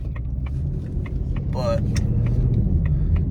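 A 2024 Ford Mustang GT on the road, a steady low engine and road rumble running throughout beneath someone speaking.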